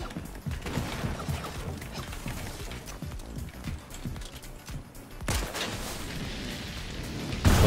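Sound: gas can explosion in the video game Fortnite

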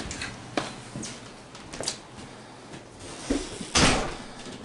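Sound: closet door being opened

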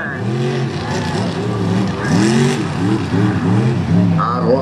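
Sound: monster truck engine revving in mud bog

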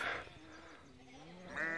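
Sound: sheep bleating

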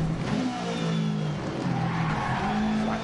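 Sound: rally car handbrake skid on gravel in video game Dirt Rally 2.0

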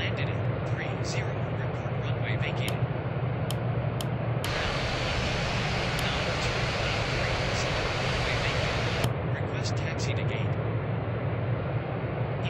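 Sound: Airbus A330 taxiing to gate in Real Flight Simulator video game

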